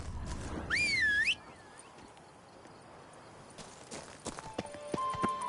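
Horse hooves clip-clop steadily in The Witcher 3, riding somewhere in Toussaint, with a brief high whinny-like cry early on and a soft ambient bed around the continuous, moderately loud hoofbeats.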